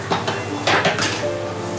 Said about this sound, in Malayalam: നമ്മുടെ പാത്രം അടുപ്പിലേക്ക് വയ്ക്കുക